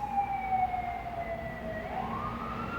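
Emergency vehicle sirens on a San Francisco street wail and glide in pitch, held at a moderate distance and fairly quiet against a low traffic rumble.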